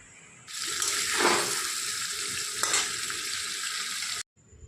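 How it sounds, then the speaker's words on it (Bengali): Chicken lightly frying in a kadai, a steady loud sizzle with a brief stirring scrape midway and another short clatter near the end before it cuts off; no voices. "আমি চিকেনটাকে একটু হালকা করে ভেজে নিচ্ছি"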